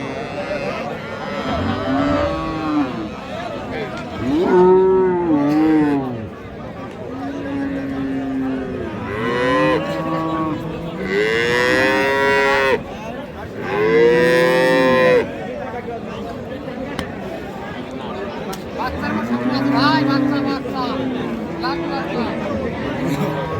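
Friesian cows moo loudly and repeatedly at a busy cattle market in Raniganj, Dinajpur, with long drawn-out calls rising over a background of crowd chatter and bargaining voices.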